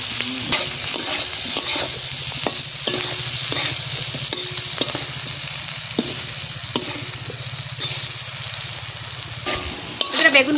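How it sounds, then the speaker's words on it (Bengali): Eggplant frying in oil in a pan, a continuous loud sizzle with a steady low hum and repeated scraping stirs throughout, no voices. "বেগুন দিয়ে দিচ্ছি"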